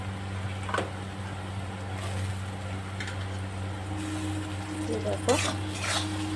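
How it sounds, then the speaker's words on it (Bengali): Garlic, ginger, tomato and spices being sautéed in a pan for a fish-head dish, with a steady low sizzle and occasional scrapes and clinks of a spoon stirring against the pan. "এবার আমি মশলাটা কষিয়ে নেব"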